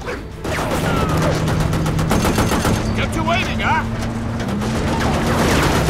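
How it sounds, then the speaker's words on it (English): Gunfire in Metal Gear Rising: Revengeance, rapid bursts of automatic shots cracking loudly and repeatedly over an engine-like drone, dense and continuous across the scene. "Just indiscriminately firing when Raiden's right there."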